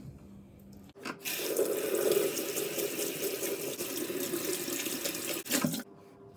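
Steady rush of running tap water lasting about five seconds as something polished for yellowed stains is rinsed under the faucet, fairly loud and close, ending with a brief splash before the flow stops.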